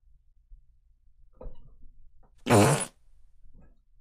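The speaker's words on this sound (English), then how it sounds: "Now you got a fart in your hand." A single loud, fart-like burst stands out in the middle, a buzzing blast of roughly half a second with a little scattered noise before and after.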